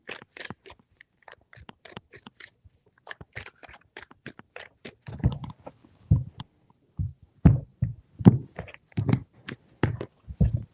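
Tarot cards are shuffled in a series of quick, crisp riffles and soft slaps, close to the microphone. The bursts come lighter at first, then heavier and thumpier, with no talking.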